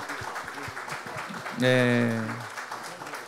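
A church congregation at an Easter Sunday service applauds in a steady, dense patter that swells briefly as a voice speaks over it.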